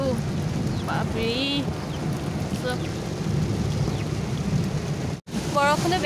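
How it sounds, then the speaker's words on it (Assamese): Heavy rain pours steadily outdoors along a rough road, a dense continuous hiss throughout, with a person speaking over it. "বৰষুণো বেছি হৈছে"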